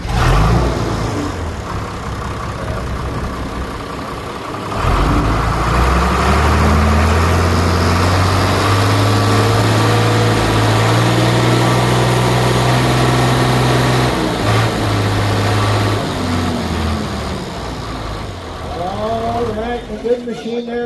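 An International 786 FWA tractor with fresh service fires up at a farm auction, its diesel engine rumbling and revving before settling into a loud, steady idle, with people talking over it.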